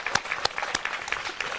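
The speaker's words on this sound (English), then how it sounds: "I just want to conclude my remarks by another round of applause for Judge Graney." Nearby crowd claps at a Progress Pride flag raising in Westfield, Massachusetts, a brief burst of sharp, distinct hand claps with individual claps standing out clearly.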